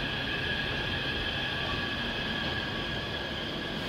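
A Taipei Metro train at Yuanshan station, a loud steady rumble with a sustained high whine from the traction motors and wheels, continuous throughout with no gaps.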